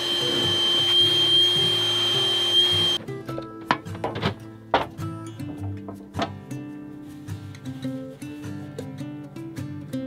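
A shop vacuum roars steadily for about three seconds while cleaning the inside of a 50-foot sailboat's hull before fiberglass layup, then cuts off, leaving scattered knocks and thunks under faint background music.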